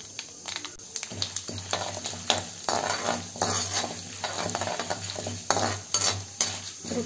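Mustard seeds, cumin and urad dal crackling in hot ghee for milk pongal, a dense, lively close sizzle with rapid popping and a few utensil clinks against the pan, no voices.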